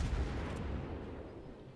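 Naval guns firing in the World of Warships game, aboard the cruiser Riga using HE shells: one loud, close, booming blast with a rumbling tail that fades over almost two seconds, with no voices.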